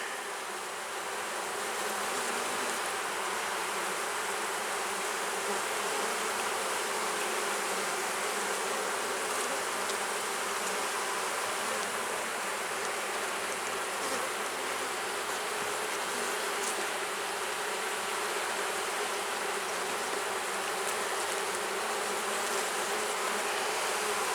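Honeybees, many of them drones, drone steadily inside an open hive. The buzzing is close, dense and continuous and stays unbroken throughout, with no talking.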